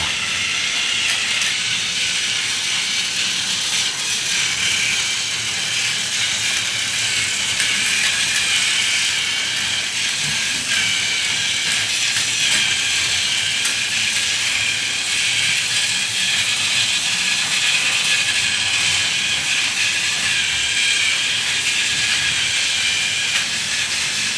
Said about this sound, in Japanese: 列車を走らせてみます。